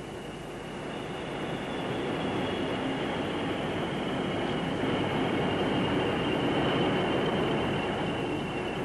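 A British Railways steam locomotive of around 1960 rolls past on the East Coast line as a steady broadband rush that swells gradually and holds, with no talk.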